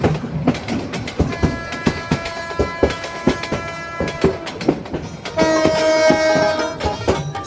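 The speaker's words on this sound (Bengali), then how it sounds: "ট্রেন আসছে?" A train rolls past in Bangladesh, near and loud, with rapid clickety-clack of wheels over rail joints and a sustained horn blast sounding through the passage.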